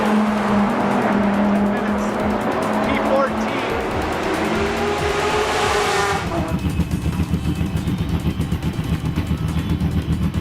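Race car at Denver Raceway slowing into the pits, its engine note dropping from a loud high roar to a rough, pulsing idle burble near the end, with tire noise early and voices over the car.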